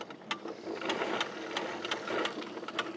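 An Aquor 80 ft retractable hose reel winding its hose back in, a close mechanical whirring and rattling hum with a few ticking clicks throughout.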